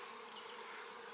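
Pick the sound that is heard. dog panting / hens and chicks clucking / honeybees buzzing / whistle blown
honeybees buzzing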